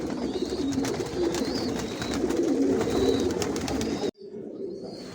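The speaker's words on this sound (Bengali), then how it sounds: "কবুতর দেখাবো আপনাদেরকে" Racing pigeons in a loft, several birds cooing in soft overlapping low calls against a busy background murmur, which drops away abruptly near the end.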